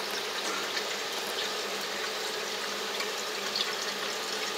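Steady rushing water flushes through a Hydrologic Stealth 300 water filter with carbon, sediment and membrane stages, a continuous even hiss with no breaks, close and moderately loud, with no talking.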